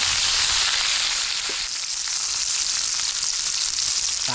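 Bitter gourd slices fry in hot oil with a steady, dense sizzle and crackle that fills the whole stretch, close and even, with no voices.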